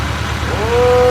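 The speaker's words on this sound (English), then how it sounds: "Go deaf from all this engine noise in here." A steady engine drones and idles nearby, a loud continuous rumble with a rising tonal whine toward the end, no voices.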